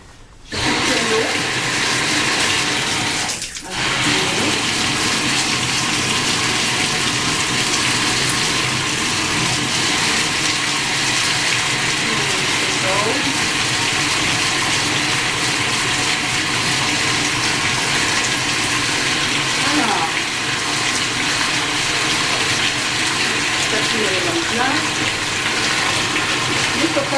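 Water runs from a tap into a bathtub during bath care, a loud and steady rushing flow that continues unbroken with no clear talk over it.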